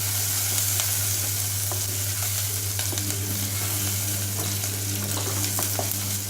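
Onions sauté for tomato sambar in a hot pan, a steady, dense sizzle and crackle close by with a constant low hum behind it and no talking.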